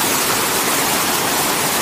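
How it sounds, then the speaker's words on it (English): Spokane Falls, a waterfall on a low river, roars as a loud, steady broadband rush that fills the whole clip without a break, close by and overwhelming. "down here by the falls, so the falls is really noisy"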